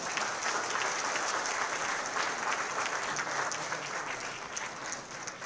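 Sustained applause from a large conference audience at a Maharashtra government event, a thick continuous patter of many hands that stays level and fills the room before easing slightly at the end.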